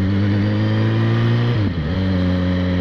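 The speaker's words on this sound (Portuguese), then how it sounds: "deixa no neutro e acelera." A Yamaha XJ6 motorcycle engine idles steadily in neutral, then gets a quick throttle blip that drops and rises in pitch, heard up close with no talking.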